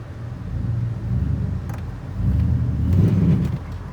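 Tow truck engine in four-wheel drive, a low rumbling drone that swells as it revs, with wheel slip under load, steady and close with no speech.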